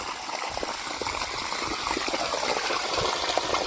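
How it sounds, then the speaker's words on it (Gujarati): Water gushes steadily from a running 10 HP water pump motor on a farm, a loud, continuous rushing flow that is close and fills the whole moment with no talking. "જો આ મોટર ચાલુ થઈ ગઈ છે આ દસની મોટર"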